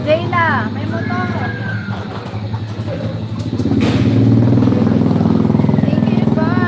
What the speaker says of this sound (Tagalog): Jayla, may motor.